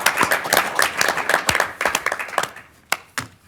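County board members applaud a retiring member in a meeting room: a small group's clapping, loud and close, with irregular claps thinning out and stopping toward the end, a few last isolated claps.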